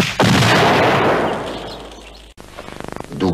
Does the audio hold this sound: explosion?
yes